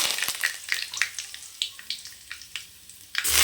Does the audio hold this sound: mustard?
yes